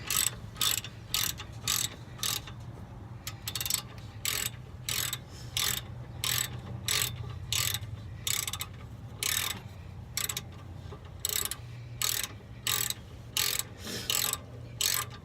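A hand ratchet clicks in quick repeated bursts while tightening a part during assembly, the crisp pawl clicks coming in steady runs of strokes with brief pauses, close up over a low background hum.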